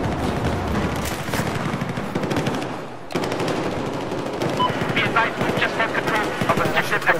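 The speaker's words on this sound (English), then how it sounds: "Sniper fire everywhere." Sniper gunfire in a video game crackles as a dense stream of sharp, rapid shots in quick succession, loud and near, with a brief gap midway before the volleys resume, mixed with other battle noise.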